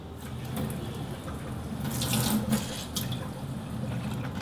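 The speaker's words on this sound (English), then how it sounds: "a little bit of Kangen water soaking just above the chicken thigh" Kangen water pours steadily over chicken thigh topped with shiitake mushroom and tomato, ready for stewing; a continuous close, moderately loud watery rush that swells briefly midway, with no talking.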